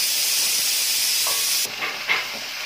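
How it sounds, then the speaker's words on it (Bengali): Winter vegetables frying lightly in a pan give off a strong steady steamy hiss that drops suddenly to a softer sizzle with a few light clatters of stirring. "প্রথমে সবজিগুলো একটু হালকা করে ভেজে নিচ্ছি"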